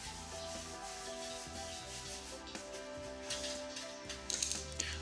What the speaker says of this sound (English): to lightly sand with the sanding pad